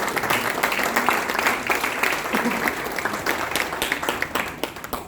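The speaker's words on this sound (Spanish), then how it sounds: "Demos un aplauso al Señor" A church congregation applauding steadily, dense clapping that holds for several seconds and thins slightly toward the end, with faint voices mixed in.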